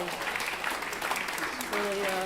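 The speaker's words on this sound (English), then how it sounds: "You can give them another clap" An audience claps steadily during a church talk, a brisk wash of applause with a voice speaking over it near the end.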